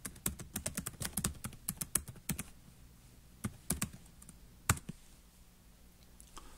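Quick bursts of clicking keystrokes on a computer keyboard as a school email address is entered at a login screen, close and quiet, with a pause midway and a few isolated taps trailing off.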